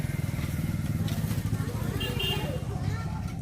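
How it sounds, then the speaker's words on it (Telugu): A motorcycle ridden along a road with a steady, loud engine drone and wind rumble throughout, carried by riders heading out on a bike after a family wedding visit, with a voice speaking over it. "ఇంకందుకని చెప్పేసి బైక్ మీద వెళ్తున్నాం"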